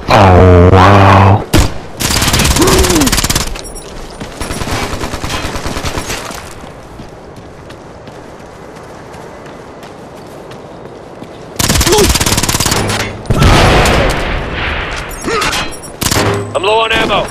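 Full-auto bursts from a 417 rifle in the video game Ghost Recon Future Soldier, loud and dense at the start, then a quiet stretch before more heavy rapid volleys return near the end.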